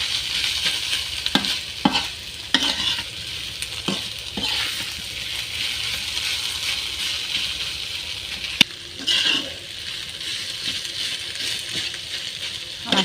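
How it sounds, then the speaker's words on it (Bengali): Helencha greens being stir-fried in a pan, a steady sizzle broken by repeated scraping and clinking strokes of a spatula against the metal, close and fairly loud with no talking. "এবার আমি শাকটা ঢেলে দেব"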